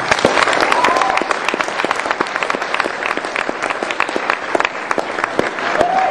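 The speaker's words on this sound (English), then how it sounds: "let's give him a big round of applause" A hall audience at the Toorcon 2007 security conference breaks into sustained, dense applause for Dan Kaminsky, many hands clapping steadily and loudly throughout with no voices standing out.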